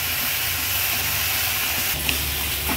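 Dried tiny shrimps sautéing on a tava over a high flame, a continuous loud hissing sizzle with faint stirring scrapes, close and steady.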